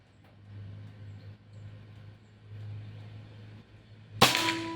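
Low idling hum for several seconds, then a single sharp crack of a Pajerogun Gen 5 air rifle shot near the end, followed by a brief metallic ring.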